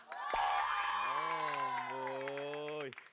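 Supporters of team Cerdas on a televised youth quiz show let out one loud, sustained cheer that swells at once and holds steady for a few seconds before cutting off.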